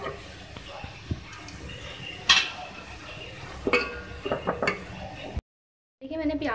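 Fried onions lifted out of a hot oily pan with a metal utensil while cooking aloo chicken, scraping and clinking against the pan over a steady frying hiss, followed by a brief silence.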